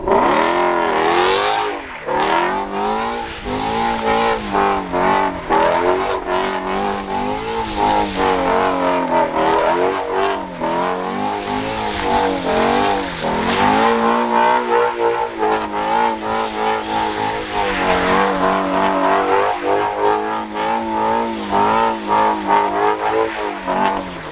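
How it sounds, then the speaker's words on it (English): Dodge Viper doing donuts on worn-out winter tires on asphalt, engine roaring loud and continuous with repeated revving swells and tire squeal throughout, no talk. "we won't get many donuts in, but we'll finish off the last little bit"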